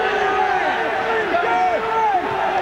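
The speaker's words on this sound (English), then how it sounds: "The big roar of Kiwi coming from the crowd." A large crowd roars at the 1986 New Zealand versus Australia rugby league test at Carlaw Park, a loud, continuous swell of shouting voices that fills the ground and stays sustained throughout.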